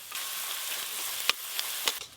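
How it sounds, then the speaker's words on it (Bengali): Chopped onion frying in a pan: a steady, close hiss and sizzle throughout, with a few sharp scraping stirs of a spatula breaking through near the end, no talking. "পেঁয়াজ কুচিটা একটু ভালো করে ভেজে নিই"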